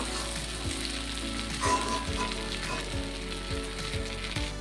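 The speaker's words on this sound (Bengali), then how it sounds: "চিংড়ি মাছটাকে হালকা করে ভেজে নেব" Shrimp fry lightly in hot oil, a steady close sizzle that runs throughout with regular soft knocks of stirring against the pan.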